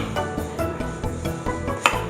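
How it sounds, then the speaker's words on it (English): A knife cutting a peeled plantain into thick slices on a board, with a series of sharp, evenly spaced chops close up and no talk. "And we're going to cut it into a 1 inch, in about 1 inch thick slices."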